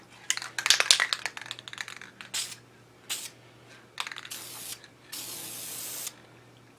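Spray paint can hissing onto the upper edge bead of a school desk in several short bursts, then a longer sustained spray, with a marble rattle and small clicks between the bursts.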